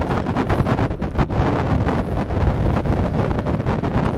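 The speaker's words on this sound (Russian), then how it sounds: "Ветер дует." Strong wind buffets the microphone on a warship's deck in the port of Saint-Nazaire, a steady loud roar with gusty fluctuations and no voices.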